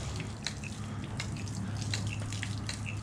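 Water pumped by a hydraulic ram pump, a steady close trickle and splash with repeated drips running continuously without talk.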